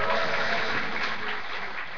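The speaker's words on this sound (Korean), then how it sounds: "여러분 뜨거운 박수로 맞아주시기 바라겠습니다" An audience at a judicial reform talk concert in Korea gives dense, continuous applause to welcome former judge Seo Ki-ho, a steady wash of clapping that fades slightly toward the end.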